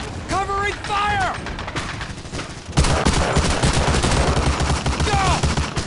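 Gunfire erupts in the World War II shooter Medal of Honor: Allied Assault, with loud rapid bursts of rifle and machine-gun fire from about three seconds on, after shouted voices and sharp shots at the start.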